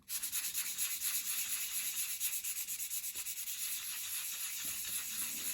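Fine sandpaper rubs back and forth over painted miniature wooden bookcase pieces for a 1/12 scale dolls house, a steady, rapid, close-up scratching hiss that continues throughout.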